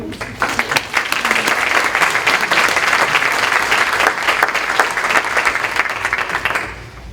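Sustained audience applause fills an awards ceremony evening honoring board members and honorees, a dense steady wash of many hands clapping that runs loud for about seven seconds before tapering slightly at the end.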